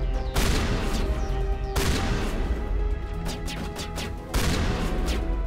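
Shotgun fire in Mass Effect 1, several loud, close blasts spaced a second or more apart, each a sharp crack over a rumbling combat background, with no speech.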